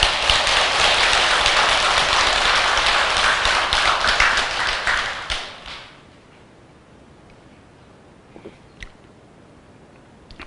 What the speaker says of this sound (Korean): 그 가족들에게 박수 한번 보내세요.